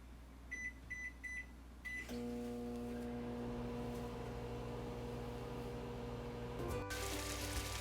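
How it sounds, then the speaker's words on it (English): A few short electronic beeps from keypad presses, then a microwave oven starts up with a steady hum and whir, ending with a soft click. "microwave on high for about 5 to 6 minutes"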